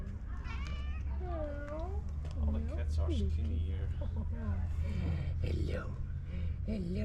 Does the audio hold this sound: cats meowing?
yes